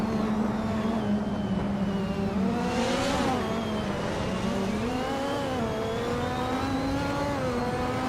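Race cars in a racing video game launching off the grid at Autopolis Oita, a classic 1988 Lowell C88 among modern AI cars, engines droning loud and close with rising and falling revs throughout.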